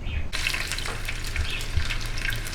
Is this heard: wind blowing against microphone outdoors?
no